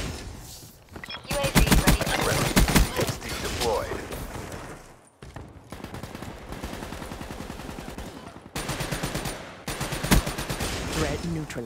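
Rapid bursts of BRM light machine gun fire in Black Ops 3 multiplayer, loud and dense, with brief pauses between long automatic strings.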